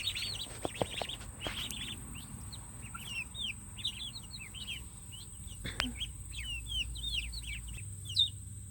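Meat birds and ducks outdoors let out a steady scatter of high chirps and peeps that carry on throughout, with occasional low thumps and rustling around them.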